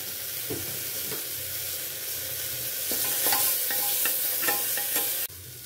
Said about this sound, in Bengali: সামান্য একটু মশলা দিয়ে নাড়াচাড়া করিয়ে নিলাম।